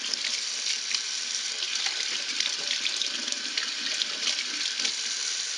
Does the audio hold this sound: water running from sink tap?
yes